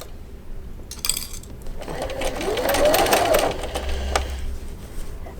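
A sewing machine stitches a mitered quilt binding, its motor whirring up into a steady rapid hum of needle strokes for a few seconds amid light mechanical clicks, close and alone.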